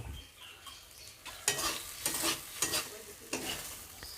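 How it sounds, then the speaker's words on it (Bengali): Prawns and spice paste fry in a pan with a soft sizzle underneath, broken by several scraping stirring strokes that come in quick, irregular bursts, fairly close and quiet. "আমার সাত আট মিনিট ধরে মশলার ওই পেস্টগুলো আর চিংড়ি মাছগুলো কষা হয়ে গেছে"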